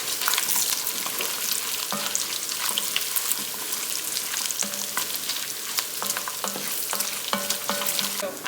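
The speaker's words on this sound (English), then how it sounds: "I'm gonna start by browning up some bacon." Bite-sized pieces of a whole pack of bacon browning in a hot pan give off a steady, close crackling sizzle, with light stirring clicks now and then and no voices.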